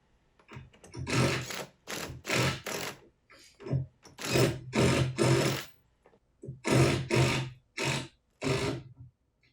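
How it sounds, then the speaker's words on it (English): A power driver runs lag screws into wood in a series of short, loud whirring bursts separated by brief pauses, close by, with no talking. "now I'll use my driver to drive those home"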